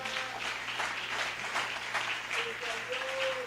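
A church congregation applauds together in a large room, a sustained, even wash of many hands clapping heard from a moderate distance, with a low hum running underneath.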